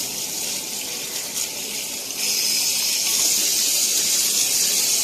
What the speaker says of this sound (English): DJ, run the water.